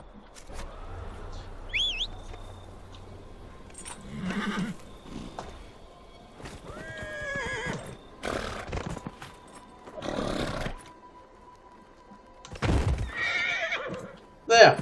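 A horse in the video game Dragon Age Inquisition whinnies twice, high and shrill, amid clip-clopping hooves and game sounds, while someone talks over parts of it.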